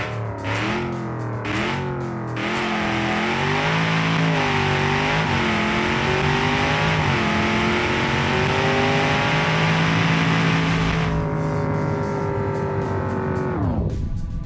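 A car from Automation, driven in BeamNG.drive, launches in a drag race, its engine roaring loud and distorted as it climbs through several gear changes over about eleven seconds, then fades as the run ends.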